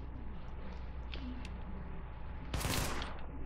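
Gunfire in the video game The Division: a short loud burst of shots about two-thirds through, set against a steady game background hum with no talk.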